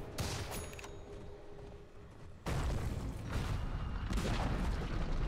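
Dota 2 tower under attack, with crackling bursts of gunfire and booming impacts rumbling continuously; a brief lull is followed by a louder, denser barrage.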